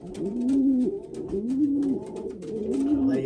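Racing pigeons coo close by in a loft, a repeated rolling low call rising and falling about three times over a soft background of shuffling and faint chatter.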